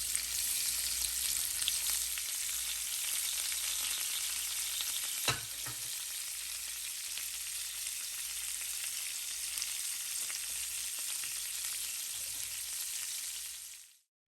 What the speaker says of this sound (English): Layer our shrimp into the pan just like that.